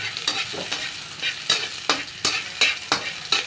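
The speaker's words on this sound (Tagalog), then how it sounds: "Maggisa tayo ng sibuyas at bawang." Onion and garlic sautéing in a pan for a fish soup, a steady sizzle broken by regular scraping stirs about twice a second, close and clear with no speech.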